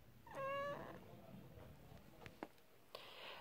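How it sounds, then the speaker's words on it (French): A house cat gives one clear, loud meow close by, followed by faint ticks and rustles in a quiet room. "Mon chat, tu fais miaou miaou"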